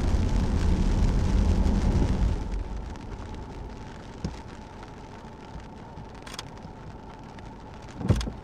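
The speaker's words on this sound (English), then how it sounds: "this drive through Glen Etive, it's been very slow because there are a lot of cars" Car driving slowly along the narrow, busy Glen Etive road in Scotland, a low interior rumble that drops quieter after a few seconds, with a couple of brief knocks and clicks.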